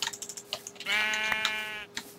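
A Minecraft sheep lets out one wavering, nasal bleat lasting about a second, set among quick light clicks of keyboard typing, with no speech over it.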